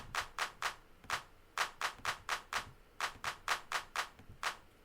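A programmed clap pattern playing in Ableton Liquid Rhythm: crisp, evenly spaced electronic claps in a repeating rhythmic sequence, loud and alone without talk.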